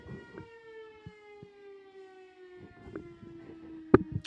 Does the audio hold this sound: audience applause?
no